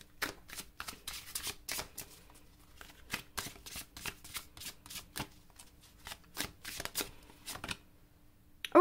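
Tarot cards being shuffled for a relationship reading, a quick series of crisp riffling and slapping bursts in uneven rhythm, close and clear with no talking.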